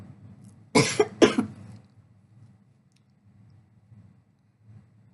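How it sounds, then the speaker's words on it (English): Two sharp, close coughs in quick succession break an otherwise quiet stretch with faint low background hum. "Sorry for all the coughing."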